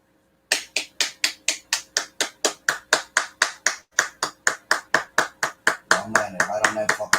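Hands clap in a steady, even rhythm of about three claps per second, close and crisp. A voice rises underneath toward the end.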